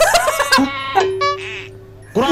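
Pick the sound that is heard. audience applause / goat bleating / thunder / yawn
goat bleating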